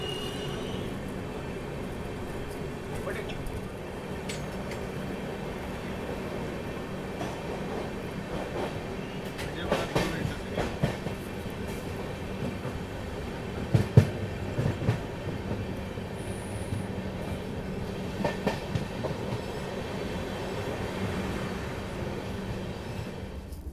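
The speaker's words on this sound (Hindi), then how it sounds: "और अब धीरे धीरे एक्सेलरेट भी कर रहे हैं हम लोग।" A passenger train in first-class AC, crossing another train at night, slowly accelerating: a steady low rumble with rhythmic wheel clatter and occasional clanks and squeals, heard from inside the carriage.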